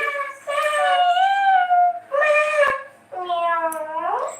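A person imitates a cat's meow three times in quick succession, close and loud, each call drawn out and wavering, with a short pause between them.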